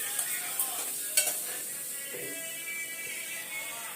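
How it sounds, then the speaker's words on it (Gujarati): Sev frying in hot oil in a home kitchen gives a steady soft sizzle with a few light stirring clinks and scrapes of the pan. "અત્યારે સેવ તળે પછી પાપડ તળી છે ને"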